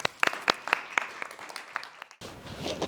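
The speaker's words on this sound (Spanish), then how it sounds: "Gracias, Pedro. Un aplauso." Scattered claps from a small audience at a research meeting in the Archivo Ducal de Medinaceli, a handful of distinct sharp hits spaced unevenly, then a brief softer burst of clapping at the end.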